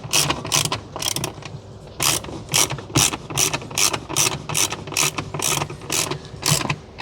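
Ratchet working a bolt on a BMW rear door panel, a brisk run of sharp, evenly spaced clicks repeating for several seconds, loud and close with no talking.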